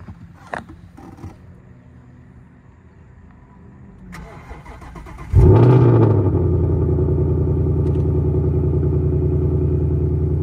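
A Ford Mustang GT engine cranks briefly, roars to life with a loud rev, then settles into a steady, rumbling idle nearby with no ticks.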